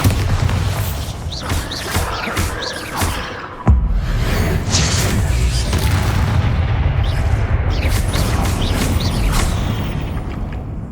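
Explosive spell blasts and whooshes in the video game Hogwarts Legacy, a dense, loud run of booms and swishes filling the whole stretch, with a sharp burst near the middle.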